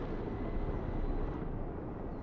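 Steady, loud rotor and engine rumble from helicopters in the Broken Arrow video game campaign, a dense continuous drone that holds evenly throughout with no talk.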